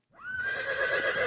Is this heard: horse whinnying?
yes